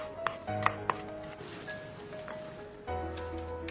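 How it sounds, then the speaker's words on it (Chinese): A knife chops garlic into mince on a cutting board with a few sharp, separate knocks near the start. Quieter handling sounds and a soft background hum follow. "再切一点蒜末"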